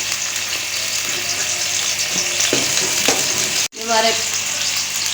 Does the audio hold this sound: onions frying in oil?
yes